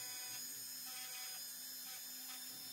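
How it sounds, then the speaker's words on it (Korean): A small rotary wheel grinds steadily at high pitch, cutting a jewelry wax model for a 2.5 mm round prong setting, a continuous whine with slight wavering and no pauses. "물레로 깎습니다"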